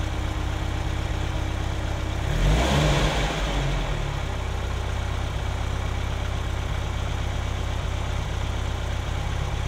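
A Ferrari engine with K-Jetronic fuel injection idles steadily at close range, with a brief rise in revs near the start before it settles back to an even, continuous idle with no talking.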